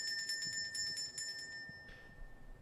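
A hand bell rings in an outdoor yard to signal feeding time for Australian magpies. Thin, high, bright strokes repeat in a quick steady run, then trail off into a faint lingering tone. No one speaks.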